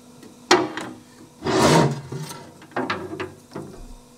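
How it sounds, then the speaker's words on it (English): Rubbing and wiping as corrosion protection is cleaned off an RB25 crankshaft in a workshop, a few short scraping strokes and one longer, louder rasping rub, close up with no talk. "We're just cleaning the corrosion protection off so we can spin it on the balancer."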